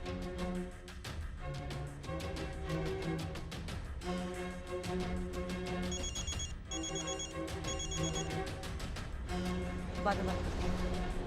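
A phone rings repeatedly on an unanswered call, a steady pulsing ringtone pattern running throughout at moderate level over background music, with some talk.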